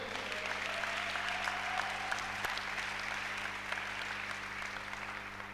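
A church congregation applauding, a steady dense clapping that continues evenly throughout at moderate loudness, with a faint voice briefly present.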